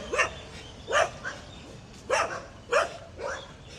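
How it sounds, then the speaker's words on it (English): Stray dogs bark on a street in India, four or five sharp barks in an irregular sequence at moderate distance, with quiet background between them. "We are being stalked by stray dogs."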